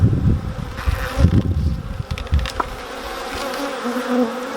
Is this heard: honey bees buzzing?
yes